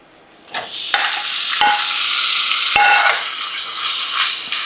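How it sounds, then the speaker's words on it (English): Beef sizzling loudly as it hits hot oil in a pan over high heat, a steady frying hiss broken by a few sharp clinks of a utensil stirring the meat. "First thing we're going to do is we're going to brown our beef."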